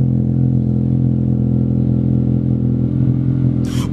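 A car called Dusty idles close by with a steady, loud engine rumble as it is moved, a short hissing burst at the end.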